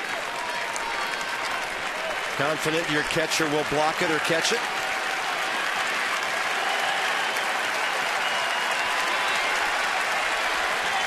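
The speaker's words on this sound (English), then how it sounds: "Crowd into it here in the 8th inning" Baseball stadium crowd in the 8th inning of a Cubs at Nationals game, a steady roar with a louder swell of cheering, while a commentator talks over it.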